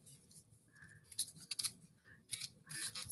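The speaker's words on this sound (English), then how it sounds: "So I'm shuffling the Lord Ganeshka, Whispers of Lord Ganeshka cards" Oracle cards are shuffled close by, making a quiet series of soft papery riffles and crisp flicks in irregular bursts, with no talking.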